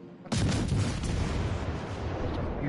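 Naval artillery fire from warships in World of Warships: a loud, sudden heavy boom that rolls into a dense, sustained rumble of gunfire lasting several seconds, with no voices.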